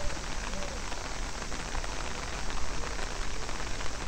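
Heavy rain pours down at Nara Park, Japan, making a steady, dense, close hiss of drops pounding the ground without a break.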